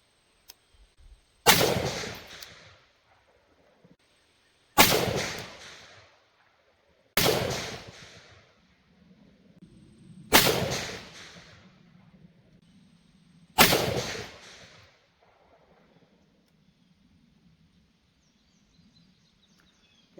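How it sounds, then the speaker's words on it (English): Five loud single rifle shots from an Armalite AR10 fired off a bench at a 100-yard range, spaced a few seconds apart, each a sharp crack with a short decaying tail into quiet outdoor air. "Okay, that's 5 shots."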